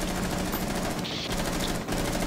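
Rapid automatic gunfire in the Rainbow Six Siege video game, a dense, loud burst of fast repeating shots filling the whole moment.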